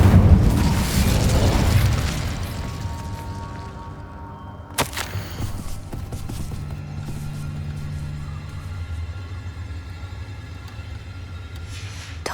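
Incendio fire spell cast in Hogwarts Legacy, a loud whooshing roar of flame that fades, then a sharp crack and a lingering low rumble trailing off under ambient noise, no speech.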